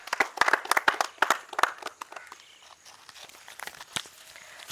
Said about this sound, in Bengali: সঞ্জয়ের জন্য আর একবার জোরে হাততালি হয়ে যাক